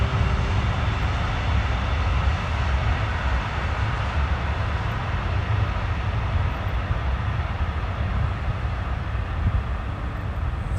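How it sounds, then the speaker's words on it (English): A train rumbles past behind a cemetery, a steady, loud, broadband roar with low rumble that holds evenly for the whole stretch without letting up. "Got a train behind us again"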